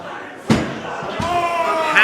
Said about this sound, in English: we could hear the loud crack of that chair